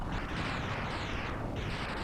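A boss explodes in the Mega Man X video game, a dense, loud, rumbling blast that roars continuously for two seconds with no speech over it.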